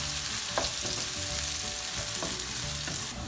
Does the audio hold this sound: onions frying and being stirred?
yes